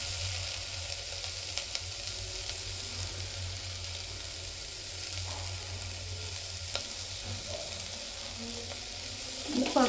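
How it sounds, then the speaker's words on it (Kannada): Vegetables for biryani frying in a pan, a continuous loud sizzling hiss with low hum underneath, close and steady for ten seconds, with occasional faint stirring taps and scrapes. "ಈ ಎಲ್ಲ ವೆಜಿಟೇಬಲ್ಸ್ನು ಚೆನ್ನಾಗಿ ಫ್ರೈ ಮಾಡ್ಕೊಳ್ಳಿ"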